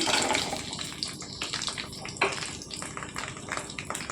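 Green chillies fry in hot oil, a soft, steady crackling sizzle with small pops, fairly quiet and close, without speech.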